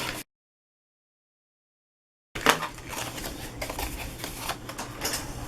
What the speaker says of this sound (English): So I'm going to just sharpen all these with my bone folder real quick.